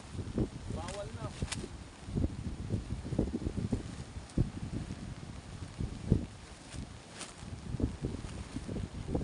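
Gusty wind buffets the microphone by a river mouth after a typhoon, a steady rough rush with louder surges, while a person talks over it.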